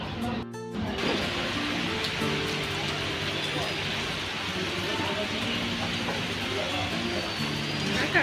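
Rain falls on a Mumbai street late at night as a steady, broad hiss. A low humming drone runs underneath, and voices are heard at times.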